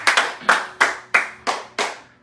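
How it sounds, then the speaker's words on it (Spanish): A church congregation claps in a steady, evenly spaced rhythm of about seven sharp claps, close and clear with no voices over it. "Give the Lord an applause."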